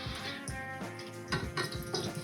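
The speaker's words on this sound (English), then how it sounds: "I'm pouring the beer in first because I want to get rid of that carbonation." Beer is poured into a cooking pot for sweet and spicy IPA pickles, a steady splashing liquid pour heard up close with a few heavier gushes, no talking.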